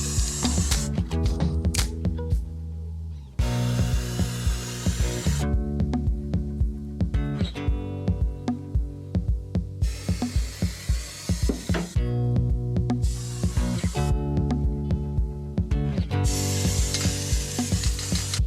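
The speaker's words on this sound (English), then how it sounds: "I dived into covering every bare metal patch with the epoxy primer" Epoxy primer sprayed over bare metal patches on a neglected Ford Escort Mk2, heard as long hissing bursts from a spray gun separated by short pauses, with clicks and ticks of equipment in between, close and fairly loud.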